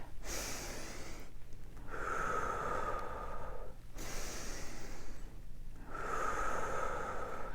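Slow, rhythmic breathing alone and close: long airy inhales and exhales alternating in an even, wave-like cycle with short pauses between, roughly three full breaths.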